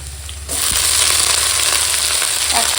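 Chopped red amaranth leaves hit hot oil with frying onion, green chilli and garlic, setting off a sudden loud, hissing sizzle that stays steady and close after the initial splash.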